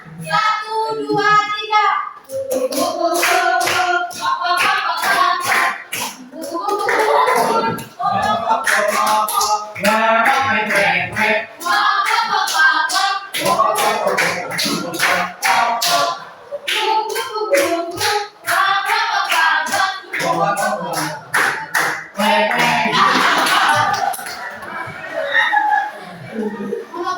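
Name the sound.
group clapping hands while singing a children's song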